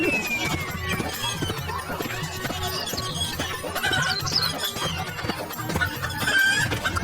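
Two large hens cluck in rapid, overlapping bursts close by, mixed with squawks and busy background clatter throughout.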